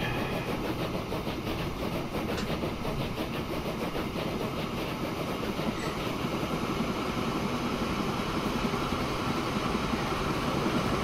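A passenger train in the video game Transport Fever 2 rolls along steadily, a continuous rumbling, clattering rail noise at moderate level with no talk.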